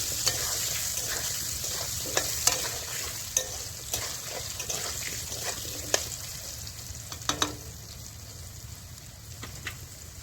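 Potatoes fry in oil in a pan, with a steady, moderate sizzle and intermittent light stirring scrapes and taps running throughout.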